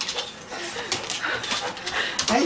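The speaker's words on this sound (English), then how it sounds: "whimper and whine" A dog whimpers and whines in high, wavering cries while greeting a soldier returning home from deployment, with excited voices talking over it throughout.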